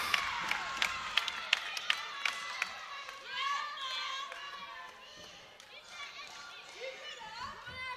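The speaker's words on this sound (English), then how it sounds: "Very enthusiastic cheering section." A crowd cheers enthusiastically in a school gym during a high school volleyball match, with shouts and whoops rising over the room, sharp claps and thuds early on, and children's voices mixed into the din.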